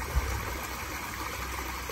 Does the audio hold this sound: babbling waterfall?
yes